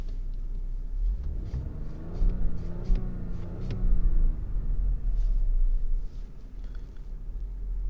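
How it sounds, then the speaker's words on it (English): A 2019 Audi Q8 SUV engine idles with a deep rumble, then revs up several times in short bursts, heard from inside the vehicle, fairly loud. "All right, let's rev it up a little bit here."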